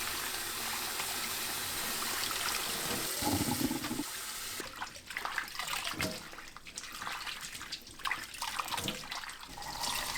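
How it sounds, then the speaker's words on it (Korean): Cold tap water runs steadily over blanched pepper leaves in a kitchen, a constant rushing stream with soft splashing and a shift in tone partway through as the leaves are moved under the flow. "찬물에 헹구세요."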